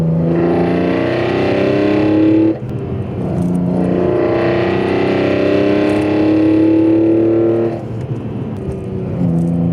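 A BMW E46 M3 with an inline-six engine fitted with velocity stacks revs loudly and close up, holding a strong, buzzy high note in two long pulls, each broken by a sudden drop in pitch.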